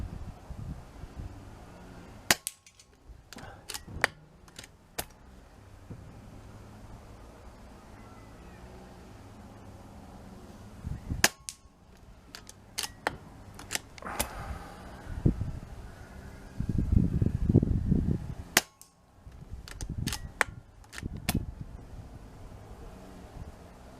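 Long range rifle shots at an outdoor shooting complex on a windy day, several sharp loud cracks spaced apart over steady gusting wind noise against the microphone.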